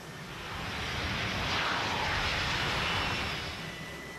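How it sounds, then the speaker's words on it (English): A Dassault Rafale M naval fighter jet passes overhead, a broad, rushing engine roar that swells to a peak midway and fades again, heard alone without voices. "This is the naval version, the Rafale M."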